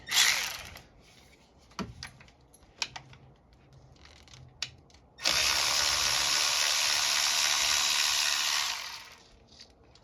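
A 10mm socket wrench breaks free an ignition coil bolt while spark plugs are changed on a 2014-2019 Toyota Highlander V6: a few scattered metallic clicks, then a sustained, close ratcheting whir lasting several seconds.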